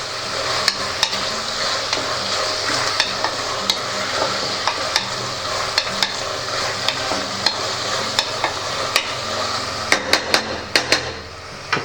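Coriander fries in tomato biryani as a spoon stirs it, with a constant loud sizzle and frequent sharp metallic taps of the spoon on the pan that quicken toward the end, close up and with no speech.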